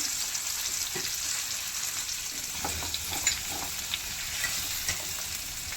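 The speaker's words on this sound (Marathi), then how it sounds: "आता आपण हे पपई घालूया यामध्ये या तुपामध्ये थोडं फ्राय होऊ द्यायचं" Steady sizzling of papaya frying in ghee, with faint stirring clinks now and then, close and continuous.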